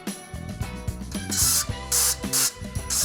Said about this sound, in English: I've got this avocado oil spray.